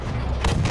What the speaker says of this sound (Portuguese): são os tiros vindo de lá pra cá também